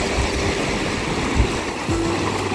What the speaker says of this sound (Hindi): ये अलकनंदा नदी है